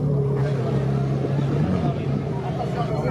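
Ferraris arrive one after another at a French car meet, with engines rumbling nearby beneath a steady murmur of crowd chatter and people talking.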